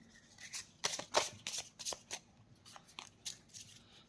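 Handmade tarot cards are shuffled by hand, producing quiet, close bursts of papery riffling and slapping in a quick uneven rhythm.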